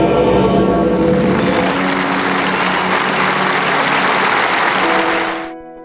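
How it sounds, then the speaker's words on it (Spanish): Deafening applause from a large crowd inside St. Peter's Basilica, a loud sustained roar of clapping that holds steady for several seconds before tapering off at the end. "aplauso ensordecedor"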